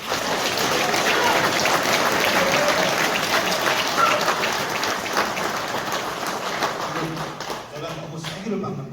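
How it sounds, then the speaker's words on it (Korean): An indoor crowd at a Korean political talk event in Gumi applauds in a loud, sustained burst of clapping that slowly fades, with a voice starting to come through near the end. "여러분 한 번 더 박수"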